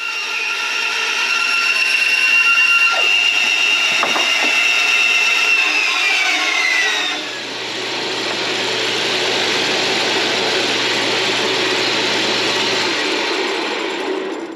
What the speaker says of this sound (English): Take this over there on the bandsaw and cut this one out.